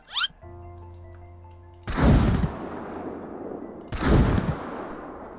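Two loud gunshots ring out in the survival game SCUM, about two seconds apart, each with a booming, reverberant tail. A brief tonal hum comes before the first shot.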